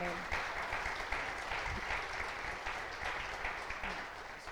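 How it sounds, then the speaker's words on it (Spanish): A church congregation applauding, a continuous, moderately loud patter of many hands clapping with voices mixed in throughout. "Aplaude al Señor"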